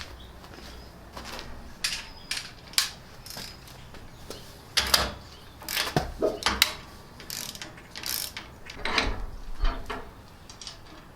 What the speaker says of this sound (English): we're going to go ahead and torque these two nuts for the drag link down to 65